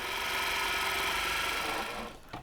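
Sewing machine stitching along diagonal lines on layered background and print squares for half square triangle quilt units, a steady close whirring hum for about two seconds that slows and stops with a small click at the end.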